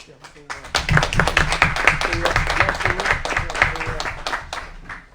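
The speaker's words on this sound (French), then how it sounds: "Là, vous avez applaudi, je peux donner son nom." The audience at a municipal council meeting claps in a loud, dense burst of applause that sustains for several seconds, while a voice talks over it.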